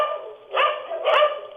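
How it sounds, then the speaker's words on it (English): Several dogs bark in the background of a phone call to a live crime call-in show, a few muffled, phone-filtered barks in quick succession, moderately loud with no talk over them. "A lot of dogs."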